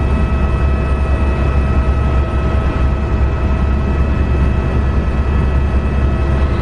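A helicopter in flight on a Las Vegas tour, heard from inside the cabin as a loud, steady rotor and engine roar with a deep throbbing low end and constant whine, unbroken throughout.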